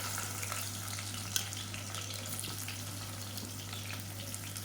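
Chopped big onions, about 125 grams, frying in hot ghee with groundnut and coconut oil for biryani, giving a steady close sizzle and hiss that runs unbroken throughout, with no talking.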